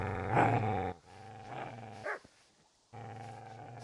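A dog in the medieval game Kingdom Come: Deliverance gives a deep, throaty growl in several rough bursts with brief gaps, loud and close.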